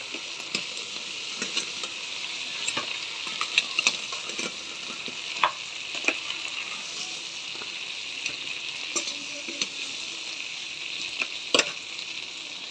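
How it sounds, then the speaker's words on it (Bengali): A spice paste fries in oil for a crab bhuna curry, producing a continuous close sizzle broken by scattered sharp clicks and scrapes from stirring, with no talking. "এই তেলের ভিতরে আমি মশলাটা ভালো করে কষিয়ে দেব"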